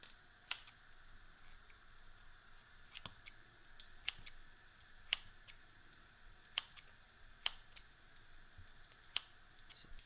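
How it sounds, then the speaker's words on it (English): Kitchen scissors cut raw chicken breast into chunks, giving sharp, crisp snips spaced about a second apart, quiet and close, with no talking. "I actually think it's a lot easier cutting the chicken breast up with a pair of scissors"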